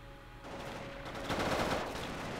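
Sustained automatic gunfire from an HMG in the Modern Combat video game, a steady dense burst that swells louder toward the middle, heard alone without talk.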